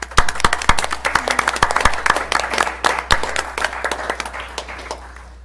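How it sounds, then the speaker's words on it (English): Audience applause at a Placerville city council meeting: a burst of many hands clapping fairly close, dense at first, then thinning and fading out. "So I really want to give these gals a round of applause for all of their work and doing."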